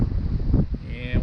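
Gusty gale-force wind roars across a sailboat on Lake Michigan, a steady broadband rush with a few stronger buffets, heard near the microphone.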